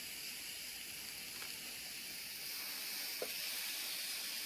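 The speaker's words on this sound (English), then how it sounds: "We got that nice sizzle going on." Bison steaks sizzling in a nonstick pan, a steady bright hiss of frying that holds evenly close by, with a couple of faint clicks and no talk.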